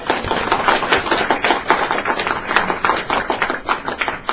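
An audience in a lecture hall claps to welcome a speaker at a book festival presentation, a close, dense patter of many hands that stays even throughout.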